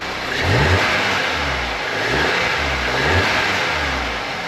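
An Audi TT engine with its stock air intake revs up and settles back several times in rising and falling surges, loud and close, with a steady broadband rush behind it and no talking.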